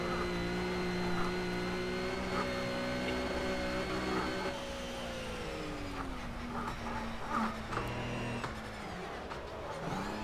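A Ginetta GT4 race car in the Project CARS racing game drones steadily with a loud, tonal engine note, sagging as the car lifts off and then climbing back up with faint tire noise.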